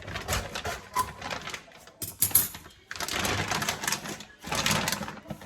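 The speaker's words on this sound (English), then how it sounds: "I'm not gonna bother keeping this bag, so I'm just gonna cut it." Scissors or a blade cut open the plastic bag around a raw turkey at a kitchen sink, a series of close crinkling, snipping rustles in short bursts with brief pauses.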